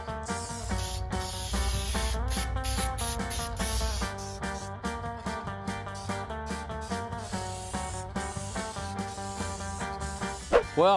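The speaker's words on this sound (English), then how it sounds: "I went ahead and sprayed this thing, but I went and sprayed it flat black instead of gloss black." A car part for a 1971 Chevy Caprice build is spray painted flat black, with bursts of aerosol hiss over the first few seconds, then more intermittent spraying, close and loud against a background of music.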